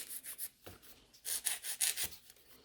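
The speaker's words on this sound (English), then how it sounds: "So just file them away." A nail file rasping across gel nail tips in short, quiet back-and-forth strokes, coming in small bursts with brief pauses, close up and without talk.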